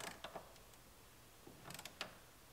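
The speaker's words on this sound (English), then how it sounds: "Use our torque wrench." A torque wrench tightens a bolt during an engine rebuild on a 2016 GMC Terrain Denali, giving a few faint, scattered mechanical clicks and creaks against a quiet background.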